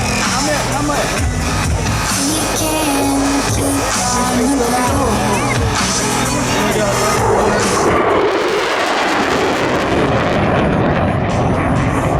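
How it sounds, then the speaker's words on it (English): An F-16 fighter jet makes a high-speed pass near the speed of sound at an airshow, a loud roaring surge that peaks and then falls away, with a commentator's voice and crowd noise mixed in. "As he passes show center, he'll be traveling just under the speed of sound at 700 miles per hour."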